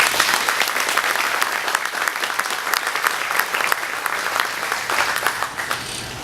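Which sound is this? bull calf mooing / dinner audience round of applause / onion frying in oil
dinner audience round of applause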